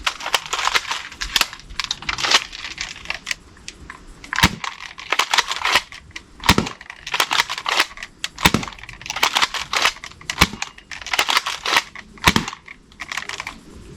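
A Dart Zone Max Stryker foam dart blaster with its stock spring fires a rapid series of sharp snapping shots, about a dozen loud cracks spaced irregularly with mechanical clicks and rattles between them, close up and without talk.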